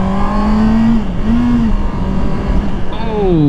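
A 2019 Honda CBR650R inline-four sport motorcycle pulls hard on the throttle, its engine note climbing in steady rising sweeps through the gears, loud and close over constant wind rush.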